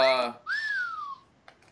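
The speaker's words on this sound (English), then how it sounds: "I put down my notebook on top of it and did the whistle by accident" A whistle sounded by accident when a notebook was set down on it, giving a single short sliding tone, clear and close, right after a brief spoken word, followed by a faint click.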